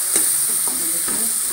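Spices are stirred into arbi (taro) curry frying in a pan, with a steady hissing sizzle and several scraping strokes of the spoon close by, one after another.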